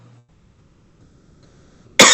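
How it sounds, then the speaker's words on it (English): A single sharp, loud cough bursts out at the very end after a near-silent stretch, close to the microphone during a trading Q&A session. "Sorry, I just had the cough there."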